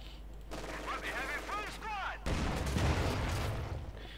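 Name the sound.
tank and anti-tank gunfire in video game Company of Heroes 2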